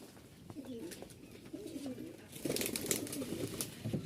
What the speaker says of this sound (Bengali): দেখছেন অনেক কবুতর এখানে, না হইলেও প্রায় 25 থেকে 30টার মতন হবে